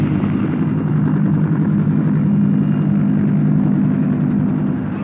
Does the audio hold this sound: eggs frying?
no